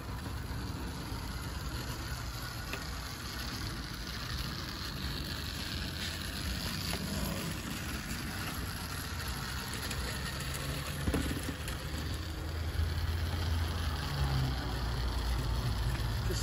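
A small Tri-ang Hornby model locomotive runs on a layout, giving a faint, continuous mechanical hum and whir under a soft background hiss, swelling slightly near the end.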